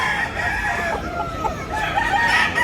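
A stag rooster at a Cebu market crows loudly and close by, one long drawn-out crow that fills the moment, with crowd noise in the background.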